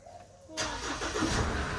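A car engine is started with a key: after a brief quiet moment the engine cranks and catches, then settles into a steady close-up running rumble.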